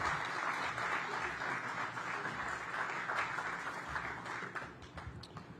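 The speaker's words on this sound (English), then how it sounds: "Give him a round of applause as they approach the podium." Outdoor crowd at a groundbreaking for Sycamore & Oak community space in Ward 8 applauding Councilmember Kenyan McDuffie, moderately distant and even, thinning into scattered claps near the end.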